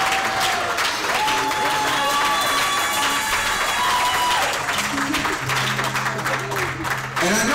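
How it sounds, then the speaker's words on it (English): A church congregation applauds the pastor during a live-streamed service, a full, sustained round of clapping and some cheering with faint tonal sounds in the background. "we ought to give Pastor a round of applause"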